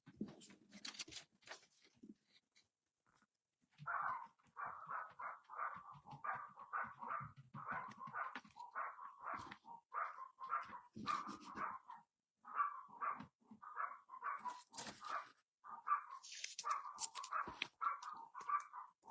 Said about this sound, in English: You guys hear the dogs?